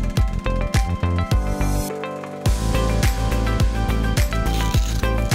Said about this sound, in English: we open the umbrella to about 3/4 and loosen the Velcro straps of the canopy from